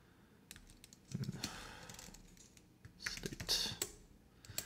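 Typing on a computer keyboard while entering Ruby code, quick close clicking keystrokes in short bursts with brief pauses, fairly quiet and alone.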